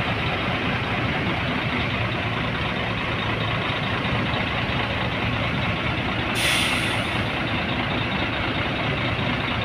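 A large SR3 Panorama V30 bus engine rumbles steadily, then a sharp hiss of air brakes releases partway through before the idling continues.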